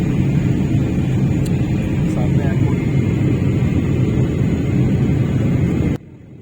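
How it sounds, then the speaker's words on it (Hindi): Inside a passenger airliner descending to land at Jeddah airport at night, a steady loud cabin roar and engine rumble fill the clip, ending abruptly. "लैंडिंग हो रही है अपनी, सामने एयरपोर्ट।"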